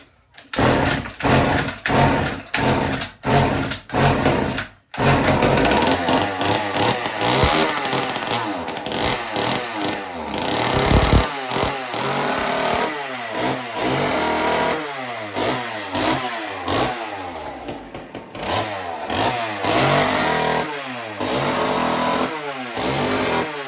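A small carbureted engine fires after priming. Sharp, sputtering bursts are followed by a loud, rough running stretch with uneven revving pulses, close and continuous, before it falters toward the end.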